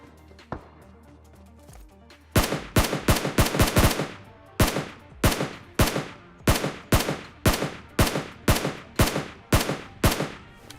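Automatic gunfire in a shooting video game, with a few isolated shots followed by a long series of loud, sharp bursts in a quick, regular rhythm, close and with no talk.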